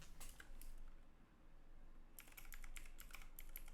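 Typing on a computer keyboard comes in quick, close bursts of clicking keys, with a brief pause in the middle before a second flurry of keystrokes.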